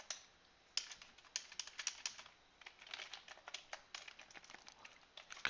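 Quick bursts of clicking keys on a computer keyboard during spreadsheet work, close and quiet, with uneven rhythm and brief pauses between runs.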